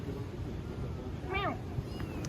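A cat in Bali gives a single short meow, rising then falling. It is fairly faint over steady background noise.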